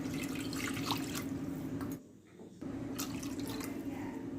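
Water, about three cups, poured from a cup into a kadai on the stove for rava kesari: a steady rushing splash that drops off briefly midway, then resumes at the same level.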